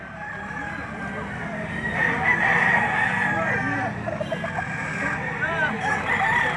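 Roosters crowing amid a crowd of chickens at the Lipa livestock auction market, several overlapping crows and clucks rising over a constant busy din, with someone talking throughout.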